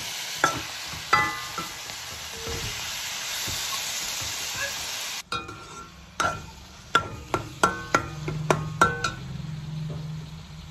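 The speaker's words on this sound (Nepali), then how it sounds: "यतिको भइसकेपछि यसमा साग एड गरिदिनुहोस् र सागलाई मजाले पर पारिदिनुहोस्।" Saag greens tossed into a hot pan already holding potatoes, then stirred: a loud continuous steamy hiss at first, giving way to a quicker series of clinks and scrapes of a utensil against the pan.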